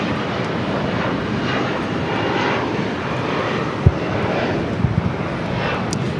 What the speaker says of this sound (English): It's an E175LR, Alaska SkyWest, flight 3304